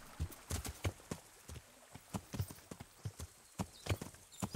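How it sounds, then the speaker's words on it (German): Horse hooves clip-clopping in the medieval game Kingdom Come Deliverance, a steady run of sharp close hoofbeats as the horse moves and turns, with no talking over them. "Rückwärts ist das Pferd dann doch ein bisschen langsam."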